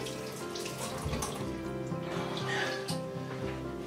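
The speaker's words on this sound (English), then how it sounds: "Give our potatoes a little wash." Potatoes being washed under a running kitchen tap, a steady close splashing stream of water with small shifts as they are handled, quiet overall.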